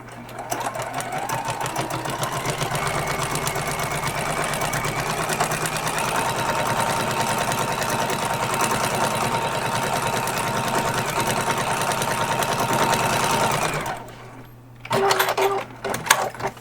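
A sewing machine stitches along a seam line of a paper-pieced quilt block, running in a steady fast whir for about fourteen seconds before stopping, followed by a few short bursts and clicks.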